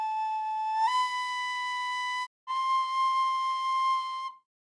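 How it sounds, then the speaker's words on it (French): A recorder plays held notes at different pitches: a steady pure tone that steps up, breaks off briefly, then sounds again before stopping, clear and isolated. "Avec un instrument de musique, une flûte à bec par exemple, on observe les signaux résultant de sons de hauteurs différentes"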